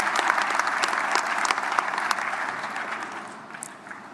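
Audience applause after a South African political address following the election, a dense steady clapping from a large crowd that tapers slightly toward the end.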